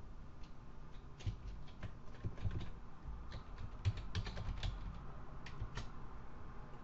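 Keys clack steadily on a computer keyboard as a Linux command is entered, a quick, irregular patter of close, light taps with no talking.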